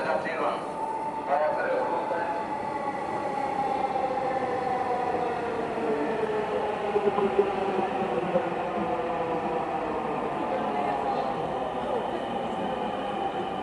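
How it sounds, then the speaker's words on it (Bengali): A Dhaka Metro Rail train pulls into a station: a steady, loud rumble carries a whining tone that glides downward as the train slows, with no clear break for the full length. "আমার গন্তব্যের গাড়ি চলে আসছে, এই যে হচ্ছে মেট্রো রেল"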